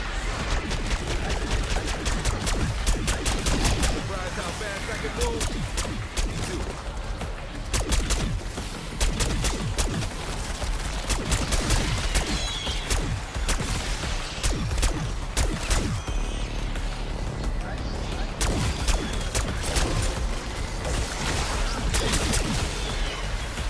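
Black Ops 6 rapid gunfire from an AK-74 aimed at enemies, a dense, nearly unbroken fusillade of sharp shots that stays loud and close, with mechanical clatter and occasional crashes, no talk.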